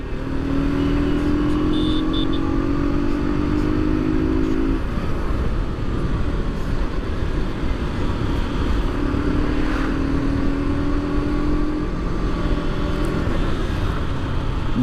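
A KTM RC 125 BS6 motorcycle runs while being ridden, giving a steady, loud engine drone with gently rising and falling pitch under constant wind rush.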